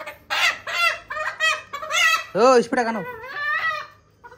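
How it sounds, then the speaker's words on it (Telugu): A country rooster clucks and calls several times in quick succession, close and loud, with people talking over and between the calls. "పాపం కోడి అనవసరంగా దొరికింది అది"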